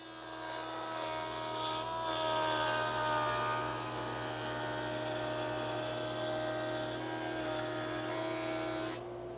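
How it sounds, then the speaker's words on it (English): A bandsaw rips through a walnut board in one steady, loud mechanical whine with a constant motor hum. The blade pitch holds through the cut, and the noise stops abruptly near the end. "So first I'm going to rip this down on the bandsaw."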